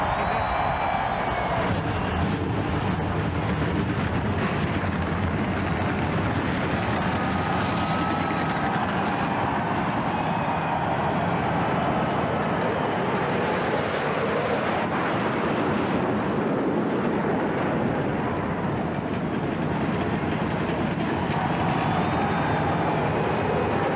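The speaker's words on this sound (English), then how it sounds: "Gentlemen, start your engine." A field of NASCAR stock car engines fires up at Dover Motorsports' Monster Mile for the 2002 MBNA Platinum 400, a continuous loud, broad roar that swells and holds steady throughout.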